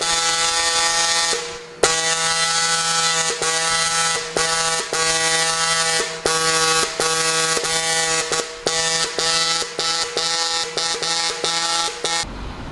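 A KT CNC pin marker engraver stamping aluminium gives a loud, steady buzzing drone with strong harmonics, broken by frequent short gaps as the stylus moves between marks, with no talk.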